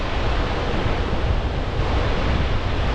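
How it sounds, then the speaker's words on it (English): Gullfoss, the great waterfall on an Icelandic river, roars as a dense, constant, loud wash of broadband noise with no letup or break, and no voices over it. "Gullfoss means golden waterfall and marks a change in the river's course."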